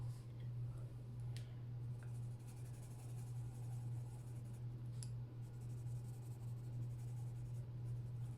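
Colored pencil strokes of lemon yellow filling in a page of an adult coloring book, a steady soft scratchy scraping that runs continuously throughout, close and quiet over a constant low hum.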